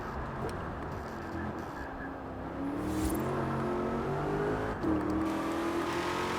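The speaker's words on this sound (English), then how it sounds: "you can hear the supercharger a bit from in here." A supercharged Ford Shelby GT500 rear-wheel-drive Mustang muscle car, heard from the cabin in the Forza Horizon 4 racing game, gives a steady engine drone with a faint whine that rises in pitch as it accelerates.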